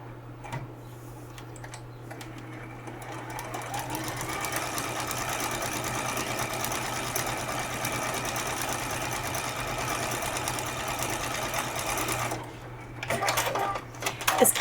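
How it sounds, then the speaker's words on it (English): A sewing machine stitches a seam on a paper-pieced quilt, running steadily and close up for about twelve seconds, with a fast mechanical ticking rhythm and a constant hum, then stopping briefly before a few short bursts. "we'll just sew that seam while we're right here"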